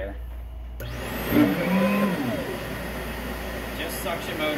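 Steady, moderately quiet whirring hum from the suction motor of a Simplicity Synergy S40P vacuum cleaner, continuous throughout, with a rising whine near the start and some faint background clatter.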